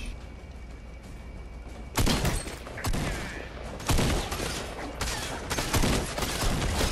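Gunfire from an AI enemy in a video game: several loud, sharp bursts of shots ring out at irregular intervals over a steady background of game noise.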